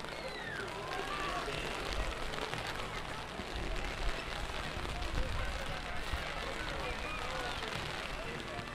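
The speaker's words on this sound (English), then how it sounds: "the rain is getting very heavy" Heavy rain falling during an outdoor Saint Patrick's Day parade in Balbriggan: a steady, dense broadband hiss throughout, with faint crowd noise mixed in.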